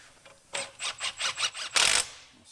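A ratchet wrench snugs axle flange bolts on a Ford Fox Body Mustang in about six short rhythmic bursts of clicking, then one longer, denser burst, all close and clear with no talking.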